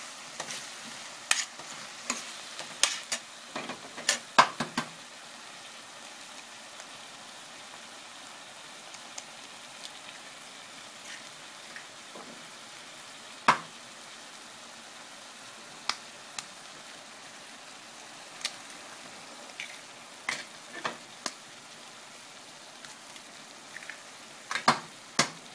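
Mexican-style scrambled eggs being stirred in a frying pan, a quiet steady sizzle broken by scattered scraping taps of the utensil against the pan, with no talking.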